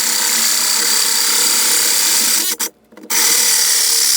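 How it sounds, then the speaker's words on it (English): A large hole saw cutting through sheet metal on a VW Vanagon single cab, a loud continuous grinding rasp that briefly stops and then resumes. "hole sawing through jagged metal, especially with a giant hole saw"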